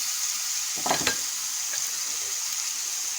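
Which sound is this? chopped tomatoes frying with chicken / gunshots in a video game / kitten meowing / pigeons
chopped tomatoes frying with chicken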